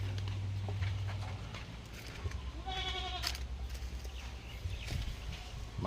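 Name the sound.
goats bleating on a farm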